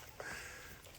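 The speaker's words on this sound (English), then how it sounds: "I can hear the dog sniffing in the mic." Quick, breathy sniffing right against the microphone, a short burst of close snuffling over a steady noisy background.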